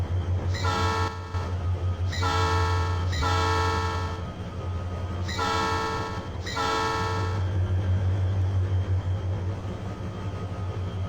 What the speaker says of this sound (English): Let's go ahead and sound that horn.